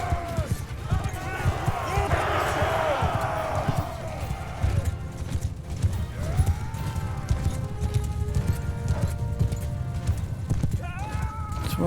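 Steady clip-clop of horse hooves while riding a slow horse in Mount & Blade II Bannerlord, continuous and fairly close, with occasional whinnies and battle noise mixed in and someone talking over it.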